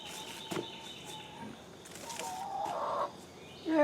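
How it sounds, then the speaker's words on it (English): Backyard laying hens cluck and murmur softly at a moderate distance, with scattered low calls and a louder squawk near the end over faint background noise and no talking. "It's good to hear the chickens again."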